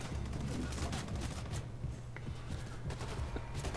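Retro-style gunfire in the video game Wolfenstein 2, with rapid, dense shots crackling continuously at moderate loudness throughout.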